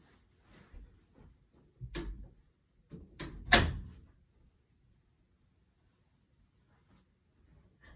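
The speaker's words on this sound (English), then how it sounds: "I'm gonna close this door." A house door is pushed shut, with soft creaks and shuffles leading to a couple of knocks and a loud close, then quiet.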